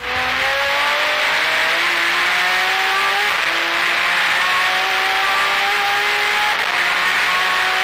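BC Auto R32 Skyline GT-R race car with a strengthened RB26 engine at around 300 km/h at Sydney Motorsport Park: a loud, sustained high-revving engine roar with rising pitch through successive gear changes, close and continuous.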